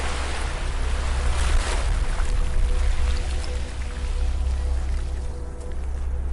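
Gentle ocean waves wash onto a beach in a steady, continuous hiss with a deep low rumble, swelling and easing softly with no voice over it.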